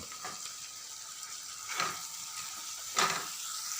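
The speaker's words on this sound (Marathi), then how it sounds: "आपण आपल्या स्पूनच्या साह्याने प्रेस करून त्यांना थोडे थोडे सॉफ्ट करून घ्यायचे आहेत" Chopped tomatoes sizzle softly in a hot pan while a spoon presses and scrapes them, a few distinct scraping clinks standing out above the steady quiet frying.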